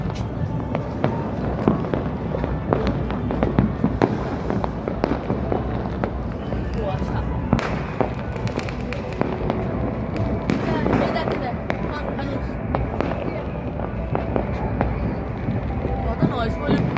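New Year fireworks and firecrackers crackle and bang continuously for a long stretch during a family celebration, dense sharp pops and louder booms over a rumbling wash, with voices mixed in.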